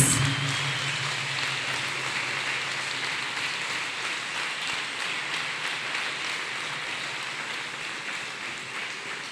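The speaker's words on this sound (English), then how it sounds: "Let us clap hands for" A church congregation clapping hands, a steady, even wash of many people applauding together, fairly close and gradually fading slightly over the stretch.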